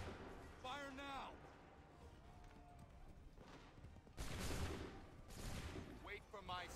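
Musket volleys crack out in Assassin's Creed III, two sharp broadband bursts of massed gunfire in a battle scene, with shouted commands and voices around them and a busy ambient backdrop.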